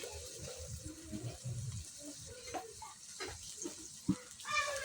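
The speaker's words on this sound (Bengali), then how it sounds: "আদা রসুনটা ভাজা হয়ে গেছে, হালকা পানি দিয়ে দিলাম" Water poured into a pan of fried ginger and garlic gives a soft, steady splash and faint bubbling, quiet and close, with no one talking.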